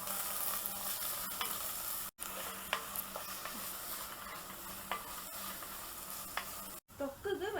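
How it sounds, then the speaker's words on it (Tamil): Onions with a little salt sautéing in a clay pot for prawn thokku, a steady close sizzle broken by scraping stirs and a couple of brief dropouts, with no talk. "நல்ல பொன்னிறம் ஆகுறது வரைக்கும் இதை வதக்கிக்கோங்க"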